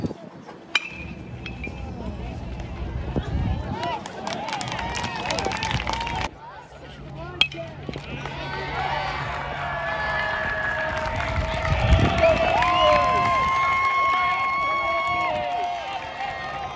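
Crowd noise at a UC Irvine college baseball game against Bakersfield: a loud, sustained stadium hubbub with bursts of clapping and cheering, a few sharp clinks, and an announcer's amplified voice over the top.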